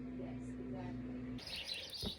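Birds chirp faintly on a farm in a snowy late winter, with a few short, thin calls over a quiet, low background.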